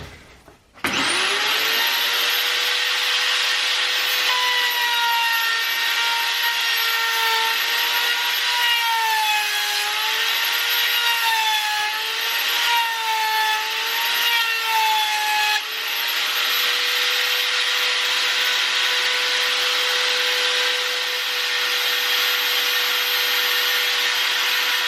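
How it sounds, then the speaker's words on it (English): A power tool cuts a 10mm groove along one face of a trimmed wooden strip, a loud sustained whining buzz with a steady pitch that wavers slightly as the blade works the wood, running without pause to the end. "Cut a 10mm groove in one of the faces of the trimmed strip to take the LED strip"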